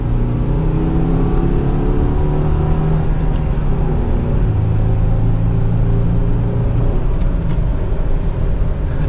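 A 2023 Subaru Crosstrek with a six-speed manual accelerates from second gear, its engine droning in a steady, loud rumble with a rising pitch inside the cabin, no talking over it.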